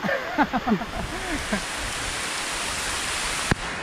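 Heavy tropical rain pours down steadily in a rural province, a dense continuous hiss after a few seconds of voices talking over it, with one sharp knock near the end.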